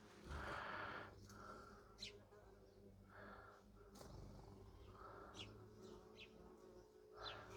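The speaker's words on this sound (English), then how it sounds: "in my compost bins there is a monster of a wasp's nest. Now they're coming in and out over here" Wasps buzz in and out of a large nest in a garden compost bin, faint droning passes rising and fading near the microphone amid quiet outdoor background.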